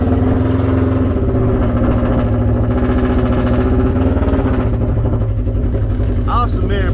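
Polaris Ranger side-by-side with a Flowmaster exhaust, loud and close, with a steady low engine rumble that holds throughout and a brief higher whine near the end.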